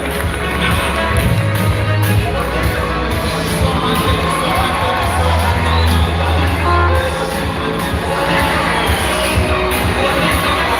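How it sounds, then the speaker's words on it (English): Loud audience applause mixed with cheering, whoops and shouts from a crowd at a meeting, a continuous, energetic roar sustained for about eleven seconds, close and full. "A round of applause for you"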